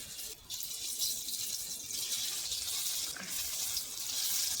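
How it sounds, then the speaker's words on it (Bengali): Soybean dhoka pieces sizzle in hot white oil, a steady loud hiss of frying running throughout with brief dips and bubbling crackle. "এবার যে ধোকাটা আমি পিস পিস করে রেখেছি তেলে ভেজে নেবো ভালো করে"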